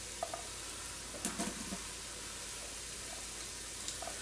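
Onions and celery fry in a pan for a beef stew, a faint steady sizzle with a few scattered taps and stirring clatters.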